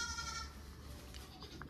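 A baby goat bleats twice, short and high, close by against a noisy outdoor background with no clear speech.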